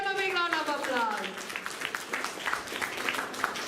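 An audience at a Bangalore school event applauds the children, with a short sung or spoken tone trailing off at the start before steady, fairly close clapping takes over.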